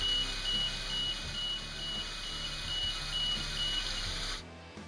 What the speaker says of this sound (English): Tilt alarm.